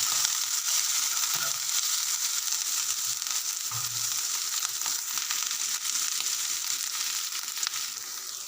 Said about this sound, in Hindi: इन सब चीज़ों को अच्छे से मिक्स कर लेंगे ताकि ये जले ना। हम सिर्फ इन्हें खुशबू आने तक पकाएंगे।